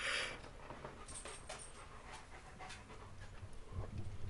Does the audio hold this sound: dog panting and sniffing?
yes